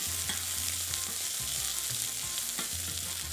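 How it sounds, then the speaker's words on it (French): Onions and garlic, along with sprigs of thyme, sizzle and fry steadily in a pan, giving a continuous close crackle with faint stirring clatter and no voices. "On laisse fondre bien les oignons"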